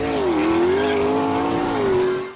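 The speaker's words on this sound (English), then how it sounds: "It's the most amazing road car I've ever driven." Gordon Murray's first road car, a supercar, drives past with a loud, smooth engine note that dips and then rises in pitch as it accelerates, close and alone.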